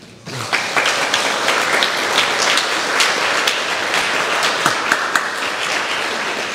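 A temple audience bursts into applause after a Buddhist dharma talk by a monk, a sudden swell of many hands clapping that stays full and steady throughout, close and loud, with no voices over it.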